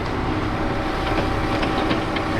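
A train rumbles through a small, quaint station in Kyoto, a steady dense roar with faint rhythmic wheel clatter, moderately loud and continuous, with no voices.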